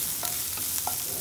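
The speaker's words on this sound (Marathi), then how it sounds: "कांदा, अर्धा मिनिट आपण याला परतून घेणार आहोत." Chopped onion with crushed green chili sautés in a pan, giving a soft, even sizzle broken by a few brief stirring scrapes, close and quiet with no voices.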